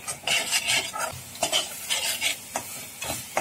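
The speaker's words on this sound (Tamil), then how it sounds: "அது இந்த பொடி எல்லாத்தையுமே போட்டு நல்லா வதக்கிடலாம்" Coriander and turmeric powder are sautéed in a pan for paneer butter masala, with a close, uneven scraping and sizzling as a spoon stirs in repeated short strokes.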